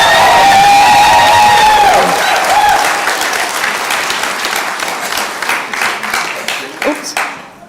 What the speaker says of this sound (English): May I ask you to give a round of applause to the potential, and she's got the job, President Suzanne Bannister